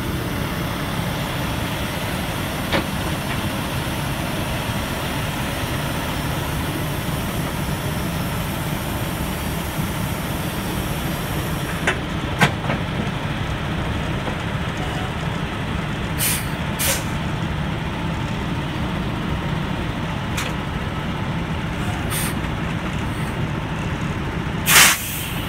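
A semi truck is dismounted at a drop-off, its engine droning steadily throughout while air brakes release with a long hiss and a few sharp clanks and bursts follow.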